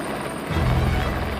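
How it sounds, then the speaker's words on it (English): A helicopter arrives at a building site to lift wet concrete, its low rotor thump swelling in loudness halfway through and holding as a steady, fairly close drone. "The chopper's going to transport 4 truckloads of wet concrete to site, which will require 50 trips."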